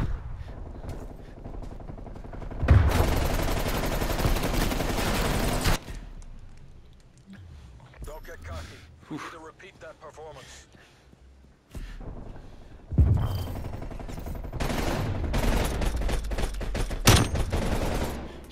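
Gunfire in a Prop Hunt video game match: dense, rapid bursts of shots in two long, loud volleys, with a quieter stretch of scattered sounds between them.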